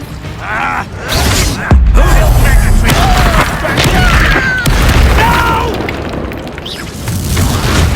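A Confringo blasting spell in Hogwarts Legacy goes off with loud booming, rumbling explosion bursts and creaking debris, mixed with shouted spell incantations and game music.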